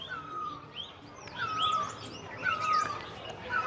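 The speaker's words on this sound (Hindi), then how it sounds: "आजकल ना आसपास बहुत सारी पक्षियाँ चहचहाती रहती हैं, उसमें ये है मेली की आवाज़।" Birds chirp and call around a hillside home in a Pahadi village, including a myna, with several short bright calls and warbling phrases repeating close by over soft background hiss.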